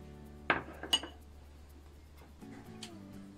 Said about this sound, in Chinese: 先大致拌匀。